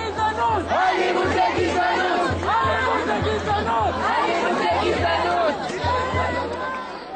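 A large crowd of protesters in Jerusalem chatters and shouts in dense overlapping voices, with rhythmic chanting surges and a steady low drumbeat pulsing underneath.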